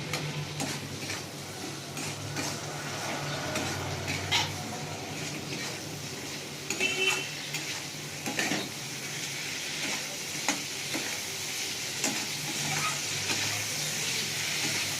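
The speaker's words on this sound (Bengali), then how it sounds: "এবার আমি আলু দেবো।" Raw potatoes and eggplant fry in spiced oil for a Bengali fish curry, a soft continuous sizzle broken by scattered scraping stirs and light clinks of the spatula, fairly quiet throughout.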